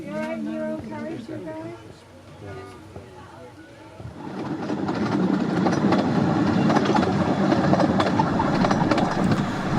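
Voices are heard briefly, then a diesel-hauled narrow gauge train on the Ravenglass and Eskdale Railway rolls past with a steady rumble and rhythmic clatter of wheels, growing louder.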